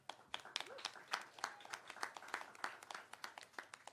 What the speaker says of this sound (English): Well, that's nice applause